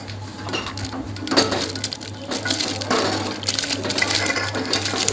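Drained, still-hot rice tipped into hot milk in a pot for Pakistani-style kheer, close-up scraping, crunching and clinking of grains and utensil against metal, irregular and moderately loud.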